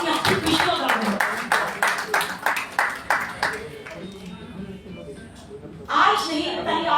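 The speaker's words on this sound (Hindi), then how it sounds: "तालियां हमेशा दिल से और जोर से बजानी चाहिए" Audience at a women achievers awards event in a hotel clapping in a quick, even rhythm for about three seconds, fairly close and loud, before the claps stop and a person talks.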